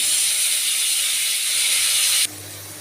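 Soaked spice paste of cumin, turmeric and Kashmiri chili poured into hot oil for a homestyle katla fish curry, giving a loud, steady steam-like sizzle that cuts off abruptly near the end and leaves a quieter hiss.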